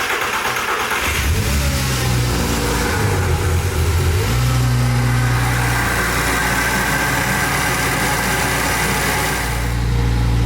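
An Audi RS engine swapped into a VW Caddy starts and idles, then gets a light rev, a deep mid-range rumble with a steady note through the exhaust back box, heard up close with no talk.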